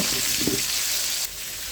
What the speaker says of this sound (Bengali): আলুতে একটু হলুদ আর লবণ দিয়ে ভেজে নিচ্ছি।